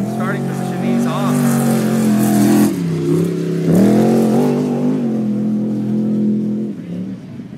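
A trophy truck roars off the start of a SCORE San Felipe qualifying run, its engine revving loud and close in rising, falling pitch sweeps before fading as it pulls away.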